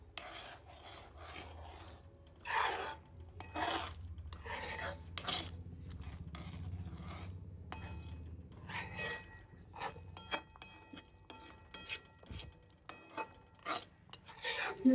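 A utensil scraping and rubbing through mushrooms seasoned with salt, chili flakes and oregano in a pan, quiet irregular strokes with soft clinks against the metal, no talking.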